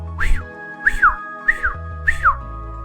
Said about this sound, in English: the only thing I was hearing, besides just the ambient nighttime sounds, was my whistling.